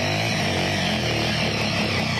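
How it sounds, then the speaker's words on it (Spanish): A battery-less, all-mechanical motorcycle engine runs at a steady, loud idle, a continuous close drone with no talk over it. "Nos quedamos con el sonido más lindo, el sonido de la moto."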